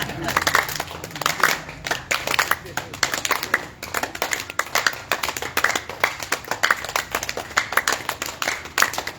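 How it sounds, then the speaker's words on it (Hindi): Loud, fast rhythmic hand clapping from a group at a daily yoga practice session in Kanjurmarg, Mumbai, continuous and energetic, with voices mixed in. "जोरदार ताली बजनी चाहिए।"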